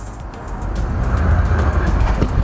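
Honda Pilot SUV pulling away in sand mode, a steady low rumble of engine and tyres churning through sand, close and continuous without talk.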